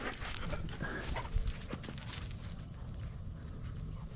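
A dog outdoors on a walk in Alabama, with soft whimpers and scuffling movement plus a few sharp nearby yips over steady outdoor background.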